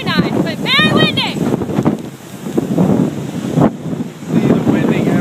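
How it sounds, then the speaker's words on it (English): Strong wind buffets the microphone on Santorini, a continuous low roar and rumble with gusts that surge and ease throughout; a voice speaks briefly over it near the start. "It's very nice, but very windy."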